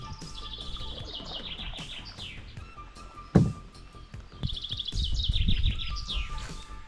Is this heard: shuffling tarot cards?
no